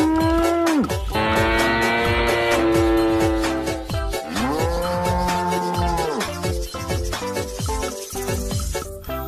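A brown cow moos with long, drawn-out calls in a cartoon-style animal-loading game, set over busy, rhythmic background music.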